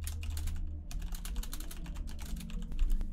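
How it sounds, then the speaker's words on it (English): Typing on a computer keyboard, a fast, steady patter of close key clicks running continuously at moderate loudness with no voice. "And now when we type it in"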